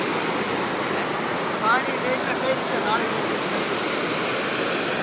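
Rushing floodwater of the Bhadar river after rain, a steady broadband roar filling the whole stretch, with faint voices and brief chirps above it.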